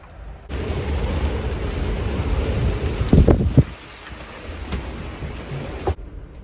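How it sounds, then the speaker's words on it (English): Heavy rain pours down in a steady roar on a boat in big seas off Venice, with a brief louder crackle of thunder midway through; no voices. "it's pouring down rain out there now, and lightning and everything"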